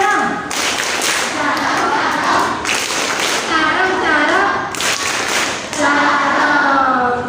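Children clap their hands in rhythm for the Acehnese tepuk carong game at a primary school, the sharp patterned claps mixed with the kids' chanting and singing voices throughout.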